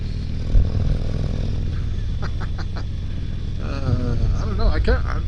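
A 2023 Harley-Davidson Road King Special with a 114 engine rumbles steadily, its low idle close and continuous under a man's speech.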